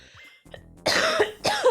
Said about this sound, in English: I'm at like the coughing stuff up stage of being sick